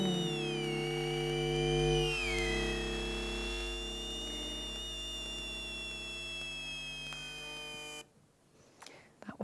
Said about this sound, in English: they create something called the Prizor, which is an antenna used to listen to and record electromagnetic signals.